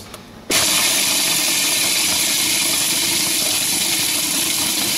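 A food processor switches on abruptly and grinds almond and hazelnut praliné with cooked sugar, a loud, steady motor roar that holds without letup for several seconds.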